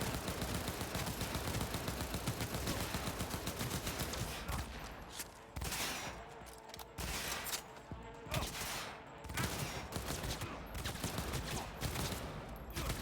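Auto pistol fire in the Cyberpunk 2077 video game: a dense, rapid stream of shots for several seconds, then shorter, separated bursts with brief pauses between them, sharp and close.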